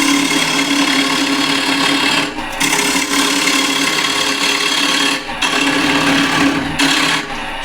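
Wood lathe turning a box while a scraper cuts the spinning wood, a steady whirring hum with a dense, rough scraping texture and several brief dips where the tool lifts off, close and loud, with no talk.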